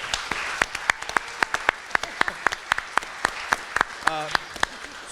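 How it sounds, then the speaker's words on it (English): Applause from a small audience at a community panel on homelessness in Bakersfield, sparse distinct hand claps in an uneven rhythm, with a brief voice partway through. "Give her a round of applause"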